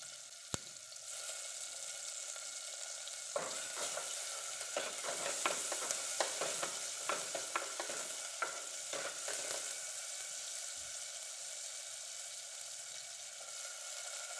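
Crushed ginger and garlic sizzle in hot oil in a home kitchen, with a soft continuous fry and a burst of rapid stirring clatters and scrapes in the middle, then the sizzle settles again.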